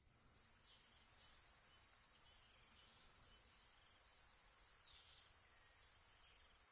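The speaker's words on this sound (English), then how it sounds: "then these are European and American cicadas" European and American cicadas give a faint, steady, shrill buzz with a slightly pulsing texture that runs unbroken throughout, heard alone without any voices.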